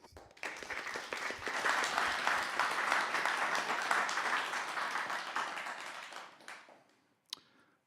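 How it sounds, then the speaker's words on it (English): An audience applauds to welcome Huw Parlor as he comes up to read his piece, a dense, steady burst of many hands clapping for about six seconds before fading, followed by a single sharp tap near the end. "give a big round of applause, big welcome to Huw"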